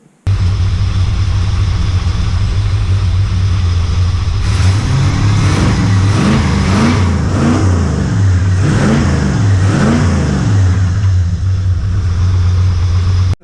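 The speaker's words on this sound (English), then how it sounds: "rev the cajones out of the motor so I can hear what it sounds like" A Ford Falcon 351 V8 wagon project car idles with a deep, loud, steady rumble, then gets revved hard in several quick blips that rise and fall before settling back to idle. No one speaks.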